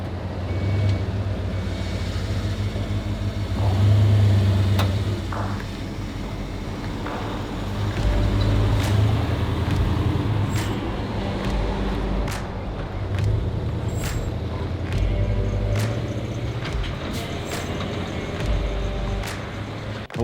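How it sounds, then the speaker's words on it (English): A Ford Bronco's engine rumbles steadily nearby, with a low droning idle that swells gently at intervals as it is revved. "This is my new car, guys."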